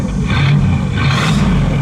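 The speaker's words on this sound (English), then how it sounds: "Go ahead, give it a rev." A 1958 Pontiac Parisienne convertible's 348 Tri-Power V8 revs up loud and close, a deep roaring burst swelling twice over a steady rumbling idle.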